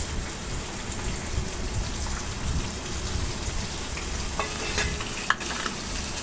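Onions fry in hot oil in a pan for tomato rice, a close, steady crackling sizzle with occasional stirring scrapes throughout and no talk.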